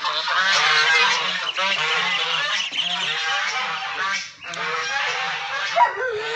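Loud, continuous honking and squawking from a flock of ducks on a turkey and guinea fowl farm, many birds calling over each other close by with brief dips.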